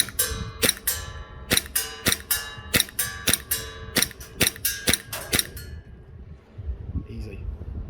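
A Glock 17 Gen 5 MOS pistol fires a long string of sharp, evenly spaced shots at an outdoor range from 30 meters, each crack distinct and loud, before the firing stops and a quieter tail follows.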